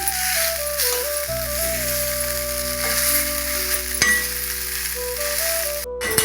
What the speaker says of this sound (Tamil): இப்போது சாதம் சேர்க்குறேன் நல்லா கலந்து விட்டோன்னா மா இஞ்சி சாதம் ரெடி ஆகிடும்